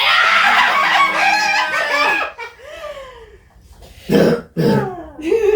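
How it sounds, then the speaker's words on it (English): A person talks, then pauses and clears their throat in a couple of rough, raspy bursts before speaking again. "Just clear my throat."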